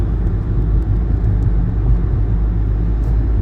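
Steady low car rumble from inside a moving vehicle, continuous and fairly loud with no voices.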